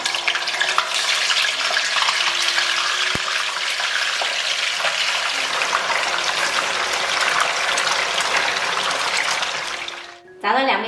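Black tofu fries in hot oil, a loud dense crackling sizzle that runs steadily close by for about ten seconds before briefly dropping away and returning; a voice speaks over it.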